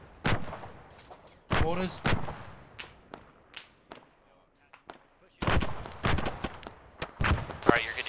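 Gunshots ring out in an Arma 3 firefight: scattered single cracks and short bursts, some close and sharp, others more distant, with quiet gaps between clusters and a voice speaking briefly over the shooting.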